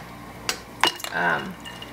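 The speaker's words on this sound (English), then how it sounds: "I'm just gonna drop them into the boiling water" Heirloom beefsteak tomatoes drop into a pot of boiling water in a home kitchen, giving one quick plunk and a short splashy bubbling, quiet and close.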